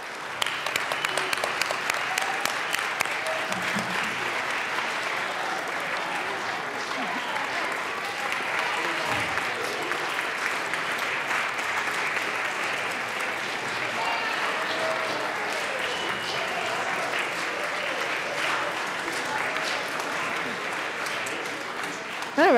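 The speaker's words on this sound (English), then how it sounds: "So if we could just give them all a round of applause and welcome them" Sustained applause fills the Colorado House chamber at the State Capitol, steady dense clapping from many hands at moderate volume throughout, with faint voices mixed in.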